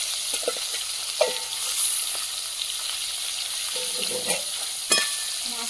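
Fresh fish frying in hot oil, a steady spluttering sizzle with occasional sharper pops and crackles, fairly close and continuous throughout.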